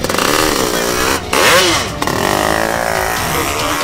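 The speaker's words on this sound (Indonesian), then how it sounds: "Motor lu menang berisik doang lu." A Yamaha RX King two-stroke motorcycle revs loudly and close by, its engine note rising and falling through several throttle blips with a brief dip in the middle.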